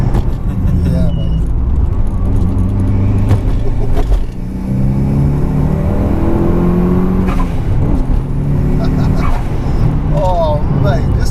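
A 21-year-old Mitsubishi Evo 6 engine pulls hard under acceleration while driving, a loud, raw, rising drone that climbs through gear changes inside the cabin, with people talking over it.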